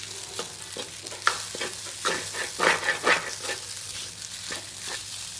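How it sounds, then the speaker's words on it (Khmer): Fried rice with duck egg being stirred in a hot pan after fish sauce, sugar and seasoning go in: steady scraping and tossing strokes over a continuous sizzle, with a few louder clatters near the middle. "ខ្ញុំកូររៀងយូរដែរដើម្បីឲ្យចូលជាតិល្អ"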